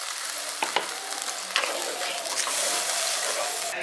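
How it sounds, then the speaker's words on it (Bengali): Water poured into a pan of sizzling spice paste for a village-style potato curry, a steady broadband hiss and sizzle with a few sharp splash bursts and stirring clatter, close and continuous throughout. "এবার এর মধ্যে আমি জলটা দিয়ে দিচ্ছি"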